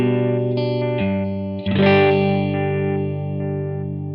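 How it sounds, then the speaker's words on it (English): An electric guitar plays through a Microdose phaser pedal set to a square-wave modulation, giving a choppy, tremolo-like pulsing to sustained chords, with a fresh chord struck partway through and left ringing, no talk. "Then we have a square wave. This is more of a sort of choppy effect."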